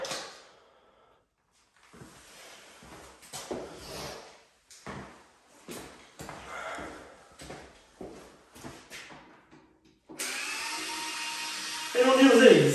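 A Bosch Go cordless screwdriver whirs in a steady burst near the end, after a stretch of intermittent handling knocks and rustles during an electrician's social housing job.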